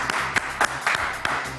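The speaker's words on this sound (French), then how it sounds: "Allez, on applaudit très fort Martin Véron." Studio audience applauding a comic book artist on a French talk show, a short burst of scattered claps with a few sharper hand strikes standing out.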